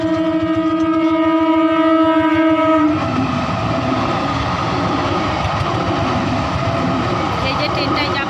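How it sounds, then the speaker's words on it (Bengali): A train pulling through a level crossing at Dhatri village, opening with a long, loud horn blast that gives way to rumbling wagons and rhythmic wheel clatter close by, with voices faintly underneath. "এই ট্রেন ঢুকছে"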